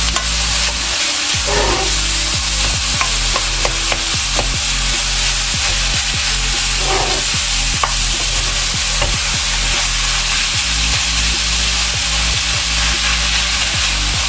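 Kimchi fried rice stirred in a frying pan, a steady close sizzle broken by repeated scraping and clacking strokes of the spatula against the pan, with no talking.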